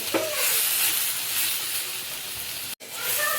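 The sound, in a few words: soybean chunks sautéing in masala in a pan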